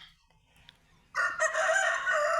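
Dega breed roosters on a farm crow loudly and close by, one long, strained cock-a-doodle-doo after a quiet start, with faint clucking and bird chatter before it.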